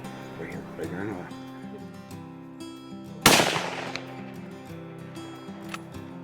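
A single sharp rifle shot at an elk during a Michigan hunt cracks out loud and close midway, with a ringing tail, over steady background music and voices.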